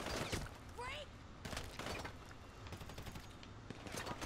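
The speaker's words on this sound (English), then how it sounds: "Damn it, who's shooting me?" Gunfire during a heist in GTA Online: sharp scattered shots and bursts crack through a busy game mix, with voices talking over the action.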